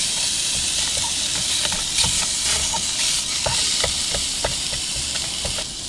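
Sausage cooks on a gas camp stove fed from a nearly empty can, with a steady loud hiss of burner and sizzle under scattered small pops and crackles, close up.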